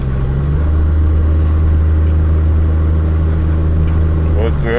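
A Mercedes fitted with a swapped-in 1JZGTE engine, running rich, drones steadily and loudly while the car drives, a constant close engine hum throughout with a slight pitch shift near the end.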